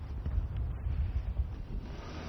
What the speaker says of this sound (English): it really gets very windy up here